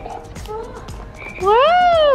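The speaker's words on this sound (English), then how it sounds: "What does a frog do?" A toy frog gives a rising, warbling electronic croak that starts loud partway through, after some quieter mixed background sounds.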